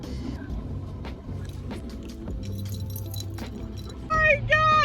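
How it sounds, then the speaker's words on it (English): Keys jangle amid speech while people sort out the wrong set of keys for an apartment, the metallic rattle close and brief under the talking, growing louder near the end. "Trying to sort our"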